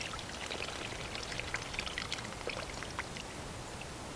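Water streams from a watering can onto the soil around a newly transplanted Concord grapevine, giving a steady, close splashing and trickling wash with scattered droplet patter throughout.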